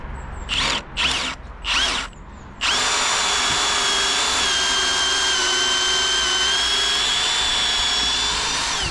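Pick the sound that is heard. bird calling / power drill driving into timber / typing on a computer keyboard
power drill driving into timber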